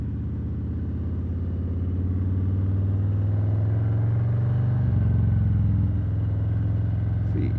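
A 2020 Harley-Davidson Low Rider S being ridden with the throttle opened, giving a steady, loud, low V-twin engine drone that rises slightly in pitch and shifts at a gear change partway through.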